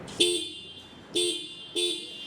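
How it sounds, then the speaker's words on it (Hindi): Three short, loud honks from a TVS Apache RTR 310 motorcycle horn, evenly spaced with brief quiet between them. "तो हॉर्न में आपको एक बार सुनाना भी चाहूँगा"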